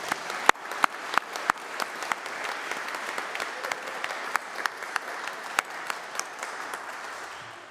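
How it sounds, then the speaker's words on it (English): A church congregation applauds during a Sung Eucharist at the University Church, St. Mary's, giving a moderate round of clapping with distinct sharp claps near the start that settles into a steady patter. "So can we give them a round of applause?"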